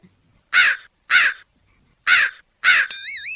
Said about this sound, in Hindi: कौवे की आवाज आने लगती है।